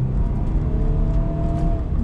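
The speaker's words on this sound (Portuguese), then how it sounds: "Então eu vou pisar tudo aqui para a gente ver como é que ele vai se sair." Nissan Sentra SL under full-throttle acceleration, a loud engine roar with rising pitch over two seconds, heard from the cabin with no speech.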